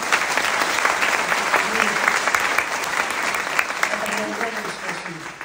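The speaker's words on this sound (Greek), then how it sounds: "θα παρακαλούσα ένα χειροκρότημα για τα παιδιά των ενόπλων δυνάμεων" Sustained applause from an audience honoring members of the armed forces at a lecture, dense clapping throughout with faint murmurs of voices beneath.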